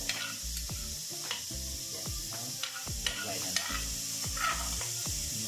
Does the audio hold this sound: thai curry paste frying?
yes